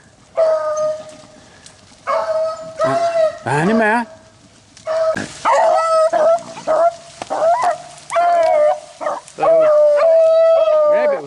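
Beagles trailing a rabbit through a thicket give drawn-out baying howls and yips in repeated bursts, fairly close, while someone talks briefly.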